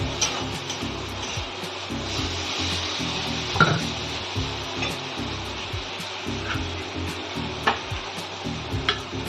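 Water poured into a pan of frying spices and potatoes for an egg curry sets off a steady, close sizzle and bubbling hiss, with a few sharper spits and stirring bumps throughout.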